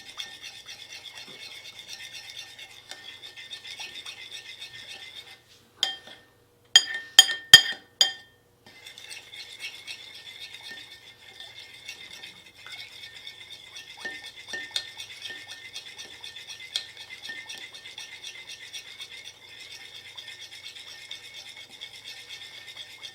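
A homemade natural deodorant mixture being stirred in a container, with steady scraping and clinking of a utensil against the sides, broken midway by a few sharper taps.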